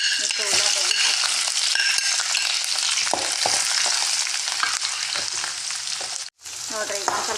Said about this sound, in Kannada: ಹಸಿಮೆಣಸಿನ್ಕಾಯಿ ಒಂದು ಸ್ವಲ್ಪ ಫ್ರೈ ಆದಮೇಲೆ ಮತ್ತು ಉಳ್ಳಾಗಡ್ಡಿ ಹಾಕೋಣ.